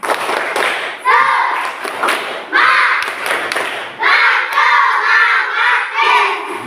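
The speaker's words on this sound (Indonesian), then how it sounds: "Coba tepuk semangat" A class of pupils bursts into a loud spirit clap and chant, rhythmic group claps mixed with shouted chanting voices in several surges, close and energetic.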